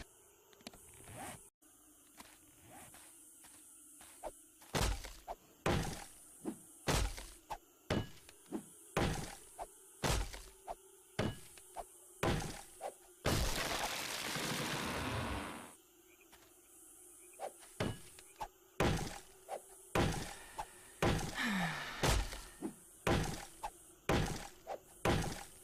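Glass jars breaking in the 7 Days to Die video game, a long run of sharp shattering smashes and thunks that repeat every second or so, with a longer noisy crash partway through and no talking.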